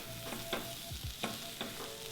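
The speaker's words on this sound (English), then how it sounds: "I added my chickpeas, and I'm just going to mix these up." Chickpeas being stirred with softened onions in a frying pan, with a few scraping strokes over a low, constant sizzle. It is quiet and close, with no voice.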